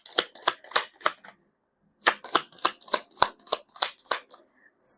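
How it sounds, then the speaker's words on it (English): Tarot cards riffle-shuffled at close range in two quick bursts, a run of crisp flapping snaps, then a short pause, then another rapid volley of card slaps. "Let's try to pull up another set of cards."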